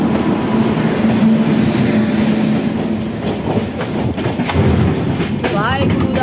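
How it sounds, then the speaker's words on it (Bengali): An express train passes with a steady rolling rumble and clattering wheels, a brief squeal of steel near the end, loud and close, with voices talking over it. "এদিকে আবার একটা ট্রেন যাচ্ছে"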